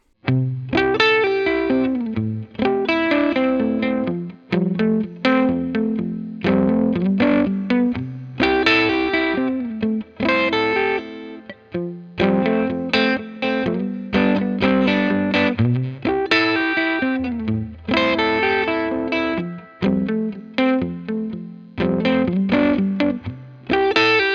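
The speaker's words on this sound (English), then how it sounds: "hear the kind of immediate attack and just slap back type effect that you can get from that more subtle but brighter spring sound" An electric guitar plays chords and riffs through a short, bright spring reverb tank, giving a quick slapback splash after each attack.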